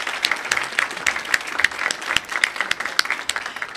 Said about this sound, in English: We didn't get a chance to applaud, did we?